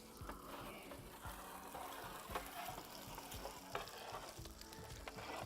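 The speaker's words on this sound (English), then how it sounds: "So they're sizzling beautifully in there." Scallops with garlic and butter sizzle steadily in a wood-fired oven, with crackling pops and occasional sharp clicks, close and continuous throughout.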